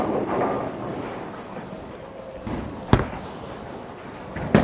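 Storm Spectre bowling ball rolling down a wooden lane, a steady low rumble that builds before sharp clattering impacts near the end, heard alone at moderate volume.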